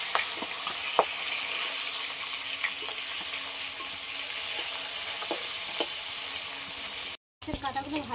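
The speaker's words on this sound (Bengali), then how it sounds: "তেল গরম হয়ে গেছে, এবার মাছের কাঁটাগুলো ভেজে নেব।" Bhetki fish bones fry in hot oil, giving a loud, continuous close sizzle with a few sharp pops and crackles. The sound drops out briefly near the end, then a different clip starts.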